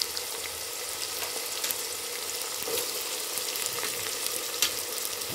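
Chopped onions frying in hot oil in a pan, giving a continuous dense sizzle with faint crackles and a few soft stirring knocks, steady throughout and heard alone without voices.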